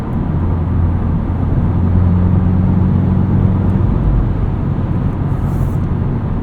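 Steady low cabin rumble of a 2025 Subaru WRX tS cruising on the highway on Bridgestone Potenza S007 performance summer tires, with constant road and engine drone filling the space, loud and unbroken, no voices.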